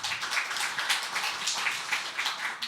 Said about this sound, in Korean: 우리와 같은 박수로 맞이하면 감사하겠습니다